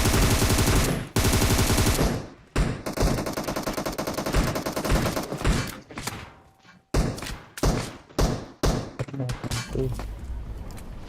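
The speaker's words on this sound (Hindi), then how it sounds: "ये जो गोलियां चला के जो आगबाजी होती है, अलग लेवल पे है बिल्कुल" Rapid automatic gunfire from the PUBG Mobile video game, loud bursts of repeated shots with brief gaps between volleys, ending in a string of separate single blasts.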